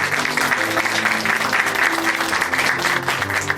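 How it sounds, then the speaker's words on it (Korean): Church congregation in Chuncheon clapping after a testimony, a continuous, fairly loud round of applause from many hands, with no speech over it. "오늘 귀한 간증 전해주신 소병욱 형제님께 다시 한번 박수 부탁드립니다"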